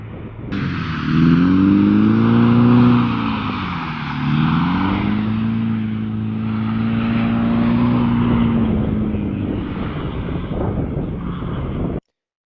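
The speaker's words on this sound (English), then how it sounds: "we're at a lake where a friend of mine is racing on ice" A car racing on a frozen lake revs and drones at a distance, rising and falling in pitch as it accelerates and slows, with a steady whooshing backdrop.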